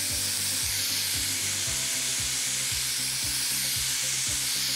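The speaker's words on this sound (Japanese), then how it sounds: "お肉の赤いところがほぼ見えなくなったらここで野菜入れていきます" Pork with burdock root and carrot sizzling steadily as it fries in a pot for pork miso soup, a loud continuous crackle and hiss with a regular background knocking rhythm, no voices.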